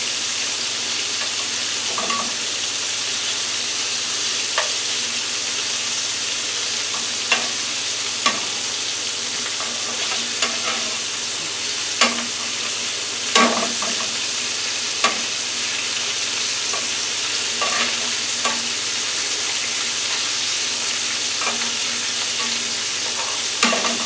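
Chicken livers fry in oil, a constant near sizzle running throughout while occasional clicks and scrapes mark the pieces being turned in the pan.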